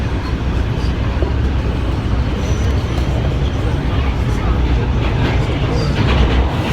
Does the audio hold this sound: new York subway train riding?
yes